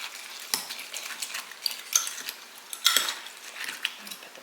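Eggs and butter are mixed in a bowl, with light scraping and clinking as the utensil knocks against the sides in uneven strokes. The sound is close but fairly quiet, and a few sharper taps stand out.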